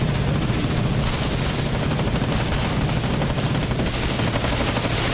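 Video game battle gunfire heard as dense, continuous volleys of loud, overlapping shots and bursts that fill the whole stretch with no pauses.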